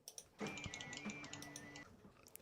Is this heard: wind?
no